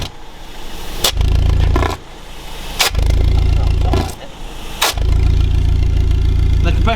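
A classic Mini Mayfair runs with a newly replaced exhaust, its steady low engine note broken by several sharp bangs or blips that briefly cut the rumble, loud and close throughout.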